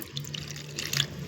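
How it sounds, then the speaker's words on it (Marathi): Water pours steadily from a vessel into a bowl holding a spoonful each of flour and cornflour, a short close trickling splash with no talking. "आता ह्याच्यात आपण थोडं पाणी टाकू"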